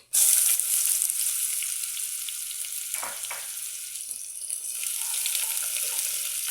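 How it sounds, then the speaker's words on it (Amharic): Onions frying in hot oil, a loud, steady, close sizzle that holds throughout with only a brief dip partway, no voices over it. "ሽንኩርቱን በደንብ እንጠብሰዋለን።"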